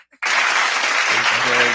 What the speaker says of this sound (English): We want everybody to, round of applause.